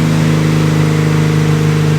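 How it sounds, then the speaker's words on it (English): A car engine idles and is held at cold revs just after its first startup following repair work, a steady close mechanical hum with firm tonal harmonics, loud and unbroken, no talk. "Give a little cold revs for you guys that like that."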